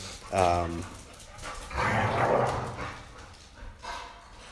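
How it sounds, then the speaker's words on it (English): Puppies playing nearby, with short yips and barks, a brief whimpering cry and scuffling noises, mixed with some background talk. "They're playing around. They're puppies."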